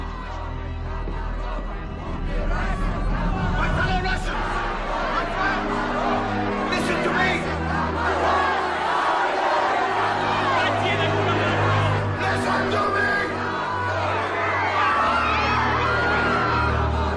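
A large crowd fills the space with loud chatter, shouting and cheering voices, a dense, continuous babble.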